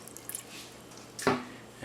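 Water trickles into a cooking pot over olive oil for braising green beans, a brief close splash with a short liquid gurgle after quiet dripping sounds.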